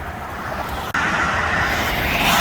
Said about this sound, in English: I took a look at what's making all the noise on these car tires